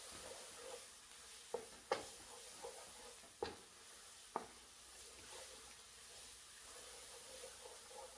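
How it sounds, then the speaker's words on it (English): Spoon stirring tomato paste into a roux in a pan, quiet soft scraping under a low cooking hiss, with a few sharp clinks of the spoon against the pot, no talking. "Okay, so I'm incorporating my tomato paste and my roux together."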